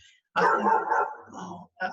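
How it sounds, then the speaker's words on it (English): A dog gives a close, loud bark followed by a softer trailing yelp, then a brief further sound, heard indoors during a conversation. "it's my dog. Sorry about that."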